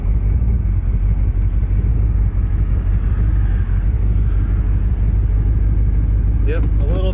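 A car fitted with Holley Sniper EFI idles at a stop with a steady, loud low rumble and constant cabin and wind noise, then a brief clatter of handling near the end.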